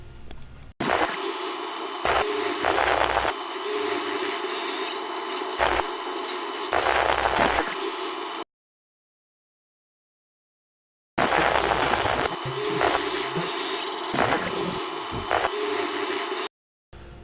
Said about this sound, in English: let's just listen to the video input static, which composes of about 3 or 4 different layers of audio